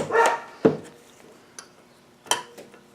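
Neighbours' dogs barking in the distance, heard as a few separate, fairly faint bark bursts spread over a few seconds outdoors, with quiet gaps between them.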